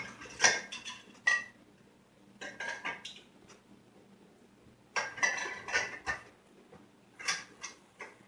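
Glass canning jars of homemade grape juice set into a pot on a rack, heard as close, sharp clinks and knocks in several separate clusters with quiet pauses between them.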